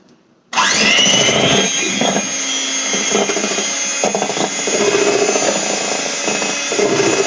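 An electric hand mixer switches on and runs steadily in a bowl of apple cookie dough with melted butter, a loud continuous whirring motor with slight fluctuations as the beaters work, no talking.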